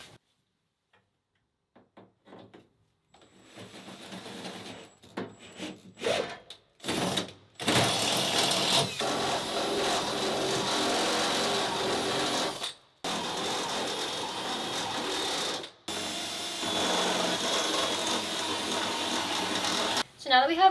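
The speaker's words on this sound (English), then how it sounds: "while I drill out my riv nut holes as well as mark where I need to drill out behind my pem nuts here" Bursts of a power drill boring rivet nut holes in the sheet metal of a Ford Transit high-roof extended van, several steady high whines broken by short pauses, starting with quieter taps and handling.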